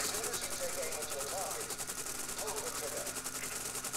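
Rapid rhythmic gunfire in the War Thunder combat game, a steady run of quick repeated shots at moderate distance, fairly quiet and continuous, with a voice briefly under it.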